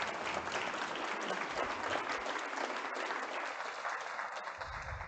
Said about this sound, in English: let's give Susan Stearns a round of applause.